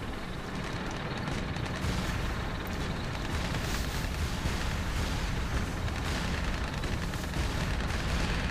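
Tanks in the city-building strategy game Tropico 5 fire their guns amid a dense, continuous barrage of booms and explosions, a steady rumbling wall of battle noise with no pauses.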